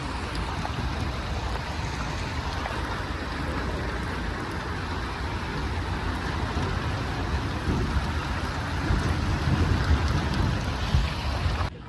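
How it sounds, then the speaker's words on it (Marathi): Heavy rain pours steadily at a busy junction, a dense continuous roar of drops on surfaces that swells slightly toward the end, with no voices. "आपण चौकाला आलो होतो आणि खूप पाऊस आहे."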